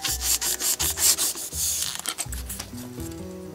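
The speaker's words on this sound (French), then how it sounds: "Nous allons commencer par découper une partie de la petite boule." A small foam ball is cut by hand, producing quick rhythmic scraping and rubbing strokes, close and fairly quiet, with no talking.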